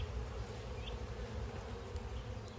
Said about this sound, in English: That's a big old bee there